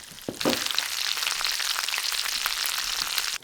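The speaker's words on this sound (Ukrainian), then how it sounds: "можна все перевернути і продовжити смаження до рум'яної скоринки з іншого боку" Homemade buckwheat blood sausage sizzles loudly and continuously in a hot pan, a close crackling hiss with small pops that stops abruptly at the end.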